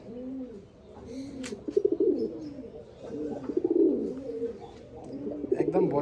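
Andhra breeding pigeons in a loft cooing in repeated rolling phrases, close and steady, with a soft flutter and faint background noise and no talk.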